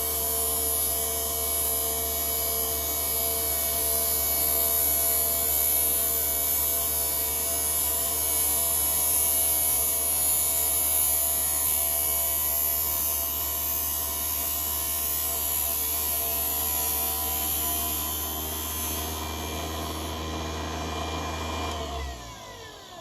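An RC Mudboss tire truing machine makes its slow finishing pass on a rubber tire, giving a loud, steady motor hum with a bright whine that holds evenly for about twenty seconds, then winds down and cuts off.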